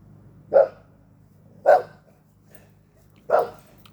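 Two boxer dogs bark indoors: three loud, single barks spaced about a second apart, close by, with no talking between them.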